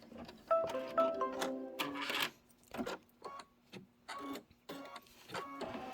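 An embroidery machine stitches a seam on a cucumber eye mask, an irregular series of quiet whirring and clattering bursts with short pauses, close and faint, with no talk.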